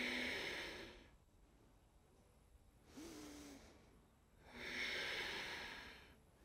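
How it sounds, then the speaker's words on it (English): Slow, steady breaths during yoga practice: three long, soft airy inhales and exhales, close and quiet, with no talking. "Take two more steady breaths here."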